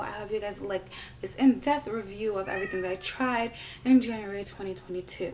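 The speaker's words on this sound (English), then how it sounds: "My cat wants to be held, and yeah, that's why he's crying right now." Pet cat meowing and crying insistently, wanting to be held, repeated plaintive meows close to the microphone over someone talking throughout.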